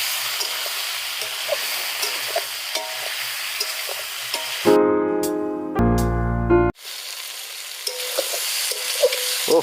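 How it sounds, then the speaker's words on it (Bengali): Prawns dropped into fried ginger-garlic spice paste sizzle loudly in the pan, with a sharp burst of hissing midway and steady frying and stirring before and after; no talk. "বন্ধুরা মোটামুটি আমাদের এই মশলাটা ভাজা হয়ে গেছে। তো এইবারে দিয়ে নিলাম আমাদের চিংড়ি মাছটা।"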